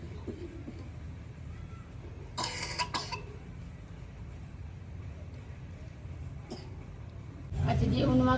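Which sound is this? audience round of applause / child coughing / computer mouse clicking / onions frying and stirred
child coughing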